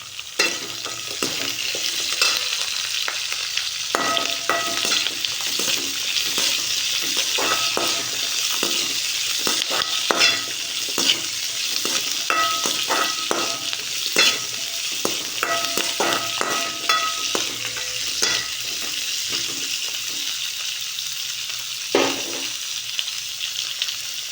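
Small onions sizzle steadily in hot oil for a fish curry, with repeated scraping stir strokes clattering throughout, loud and close with no one talking.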